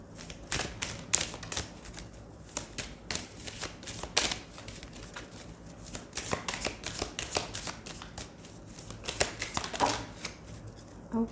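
Tarot cards being shuffled by hand at close range, a run of quick papery riffling bursts and soft taps repeating irregularly throughout.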